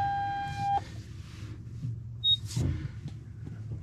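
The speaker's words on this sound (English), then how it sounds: "Get rid of the beeping." A 2022 Nissan Armada off road sounds a sustained electronic warning beep, then a brief higher chirp, over a low engine rumble.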